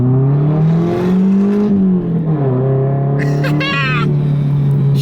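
A 22-year-old Nissan 240SX S14 drives loud and close in a race. The engine climbs through the revs, drops at a gear change, then pulls again with a droning rumble.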